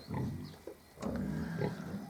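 Piglets on a mini pig farm, a few short low grunts and snuffles close by, soft and uneven across a couple of seconds.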